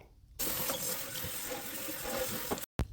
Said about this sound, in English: I'm just going to give it one final rinse to make sure that I am getting all the Barkeeper's Friend off.